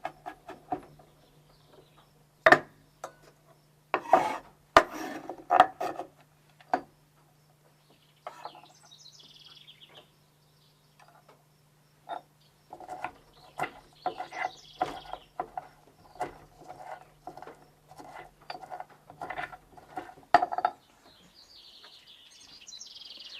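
A pestle works minced garlic scapes in a mortar for pesto, giving irregular sharp clacks and knocks, some in quick clusters and others spaced apart, close and fairly quiet with no talking.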